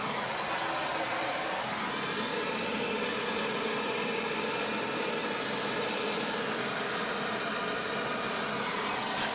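A propane torch roars steadily and close as it heats copper pipe for soldering behind a shower wall, a continuous breathy hiss with no breaks.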